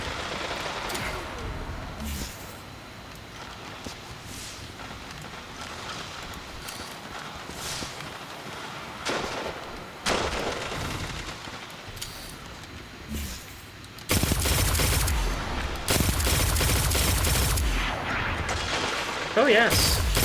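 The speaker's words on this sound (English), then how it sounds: "issue when it comes to using that exotic machine gun, is that there's just a whole lot of charge up time" An exotic machine gun fires in a Destiny 2 Crucible match, with scattered shots early on and then a loud, sustained burst of rapid gunfire near the end, while voices talk over the game sounds.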